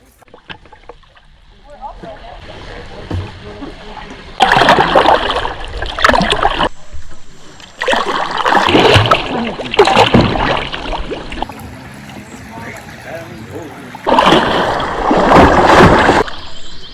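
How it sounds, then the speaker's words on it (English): Canoe paddle strokes splash and gurgle in the water of the Kickapoo River, coming in loud, close bursts with quieter flowing water between them. "Just the sound of me, the water, my paddle,"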